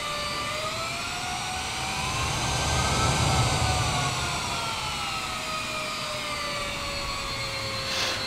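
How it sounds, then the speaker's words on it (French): Jet engine reverse thrust roars steadily in Microsoft Flight Simulator 2020 during a landing at Le Lamentin airport, Fort-de-France, with a loud broadband rush and high whining tones that slide slowly downward, swelling slightly midway and carrying on without speech. "quand il y a la reverse, en fait, le moteur s'ouvre pour changer la poussée."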